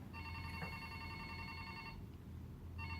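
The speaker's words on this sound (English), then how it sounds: "And let's try the cell phone" A phone rings with a steady electronic trill for about two seconds, pauses, then starts ringing again.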